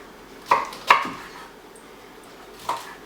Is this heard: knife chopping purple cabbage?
yes